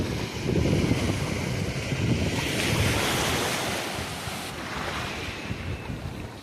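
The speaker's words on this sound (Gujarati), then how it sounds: "આ છે દરિયો" Sea waves wash steadily onto the shore at Jafrabad, a broad continuous roar of surf mixed with wind buffeting the microphone, loud and close throughout.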